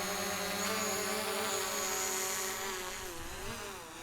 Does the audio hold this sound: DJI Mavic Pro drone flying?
yes